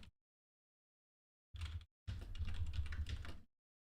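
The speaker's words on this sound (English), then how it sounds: "I'm typing it in right now." Someone types a referral code for the game BattleRise on a computer keyboard, with two quick, close bursts of key presses after a pause and no talking.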